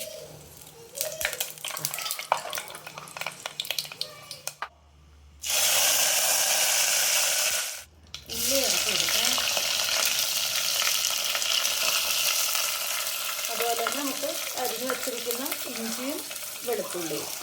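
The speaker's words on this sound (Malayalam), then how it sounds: "എണ്ണ ചൂടായിട്ടുണ്ട് നമുക്ക് കടുക് ഇട്ട് കൊടുക്കാം ഇനി ഇതിലേക്ക് ഉലുവ ചേർത്ത് കൊടുക്കാം" Mustard seeds and fenugreek seeds hit hot oil in a pan for a Malayalam tamarind curry, giving a loud, steady crackling sizzle that runs nearly throughout, with a brief pause and a few stirring clatters.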